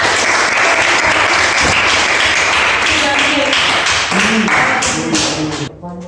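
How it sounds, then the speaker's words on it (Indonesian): A classroom group claps for group 2 with dense, loud, steady applause for several seconds that thins out toward the end. "So, give applause to group 2."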